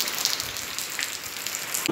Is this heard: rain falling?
yes